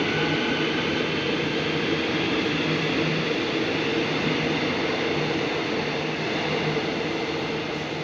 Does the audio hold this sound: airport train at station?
yes